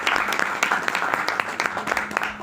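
Audience applause at a book launch in Quillota, a dense patter of clapping from a modest crowd, continuous and fairly close throughout.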